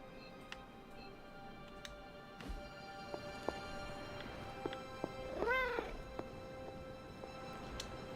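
A cat in the video game Marvel's Midnight Suns gives a single clear meow midway through, set against faint game ambience with scattered soft ticks and clicks.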